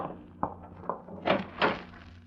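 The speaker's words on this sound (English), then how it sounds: "Brooksie, open the closet door" A closet door is opened in a 1940s radio drama: several soft knocks and thunks, then two louder creaking, rubbing swells as the door swings, heard close with no talk over it.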